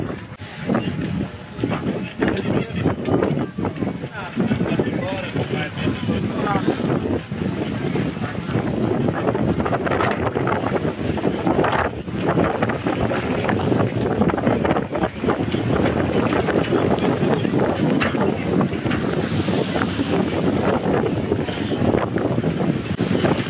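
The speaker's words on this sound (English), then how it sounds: "We're sailing, baby." Sailing ship Condor de Vilamoura under way on a cruise, with a loud, steady roar of wind buffeting the microphone and rushing water beneath the hull, continuous throughout.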